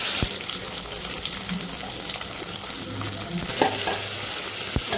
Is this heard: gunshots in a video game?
no